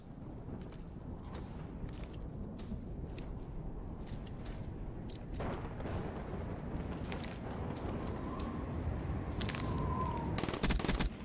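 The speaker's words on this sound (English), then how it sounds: "Shots." Gunfire in Black Ops 3 during a competitive match, heard as rapid bursts and scattered shots over a busy in-game background that grows louder near the end.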